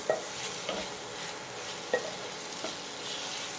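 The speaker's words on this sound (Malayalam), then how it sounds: "ഇനി തക്കാളി ഒന്ന് നന്നായിട്ട് വെന്ത് വരുന്നത് വരെ നമുക്ക് ഇടയ്ക്കിടയ്ക്ക് ഇളക്കി കൊടുക്കാം." Chopped tomatoes frying in a pan for Kerala fish pollichathu, stirred with a spoon that scrapes and clacks against the pan a few times over a steady, soft sizzle.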